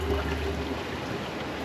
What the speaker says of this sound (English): You can hear the water boiling.